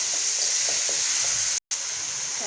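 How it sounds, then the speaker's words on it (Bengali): Chopped onion, garlic and tomato sizzle in a frying pan: a steady, close hiss of frying with light stirring clicks, broken by a brief silent gap. "টমেটো আমি ভাজি করব।"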